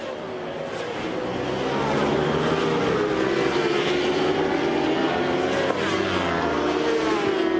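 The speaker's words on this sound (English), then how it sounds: "What a place to watch motorcycles race." Superstock 1000 racing motorcycles of the Italian CIV championship at Monza's Curva Grande, a loud, sustained high engine roar as the bikes pass, with gear changes and a slight rise in pitch.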